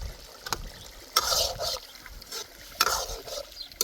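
Meat being browned and stirred in a pot for a village feast, with scraping spoon strokes and a bright sizzle rising in bursts, close and fairly loud, with no talking.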